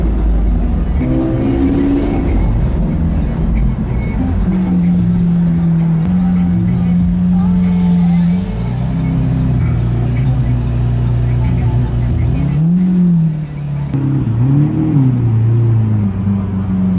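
Lamborghini Aventador engine droning and rising in pitch as the car accelerates on the road, a loud close rumble with shifting revs throughout and speech faintly mixed in.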